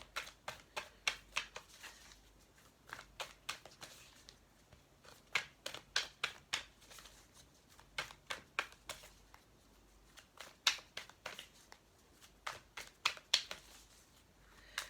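Tarot cards being shuffled for a reading, giving repeated quick riffling bursts in irregular clusters, fairly close and soft, with no voices over them.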